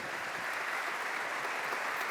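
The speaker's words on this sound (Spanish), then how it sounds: "También Teresa se ganó un aplauso, evidentemente." Audience applause for a panelist at an environmental management business forum: a dense, even wash of many hands clapping, loud and sustained throughout with no voices over it.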